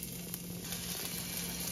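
Garlic dropped into hot oil for a vegetarian noodle soup gives a brief, quiet, even sizzle with no break.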